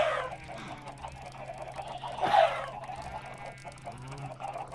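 Chickens in Minecraft clucking in short blocky bursts over a steady game background hum, one louder squawk near the middle.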